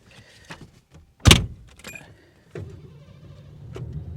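A Mercury Cougar's engine cranks with a sharp burst, then catches and settles into a steady low idle rumble, heard up close with no talking.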